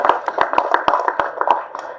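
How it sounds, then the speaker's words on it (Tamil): Audience applause at a film press meet for Thookudurai: a short run of steady, crisp hand claps, moderately loud and fairly close, with no talk over it. "அவருக்கு ஒரு கைத்தட்டல் கொடுத்துருங்க"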